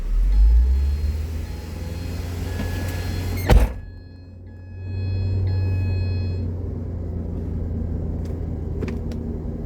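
A Ford Transit van's engine rumbles steadily, then climbs to a higher held speed of about 3,000 RPM after a single sharp thump, with the engine drone continuing at moderate level and no voices.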